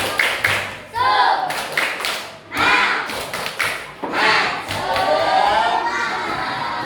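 A group of children in a classroom claps in a quick rhythmic pattern, then shouts and cheers together, with loud energetic bursts filling the room.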